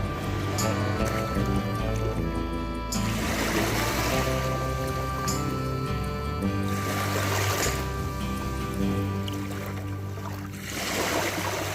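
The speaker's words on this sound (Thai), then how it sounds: "ผมฟังเสียง คลื่นเบาๆนะครับ" Gentle sea waves wash steadily along the shore of Prachuap bay at dawn, a continuous soft surf hiss with a low rumble, swelling in a few broader surges, with no voices.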